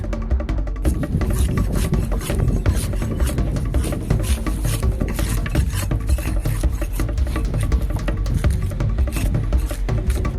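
Coating being peeled and pried in big chunks off a bar stool footrest with a tool slipped underneath, giving a continuous close rasping, scraping rub with dense irregular crackles throughout and no talking.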